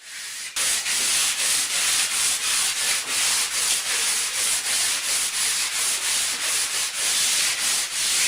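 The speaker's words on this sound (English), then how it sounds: "the final step will be to follow up with some 120 grit sandpaper to smooth out the 80 grit sanding marks" Pine baseboard molding is hand-sanded with 120 grit sandpaper, producing a loud, close, rhythmic scratching of quick back-and-forth strokes that runs steadily throughout, with no voices.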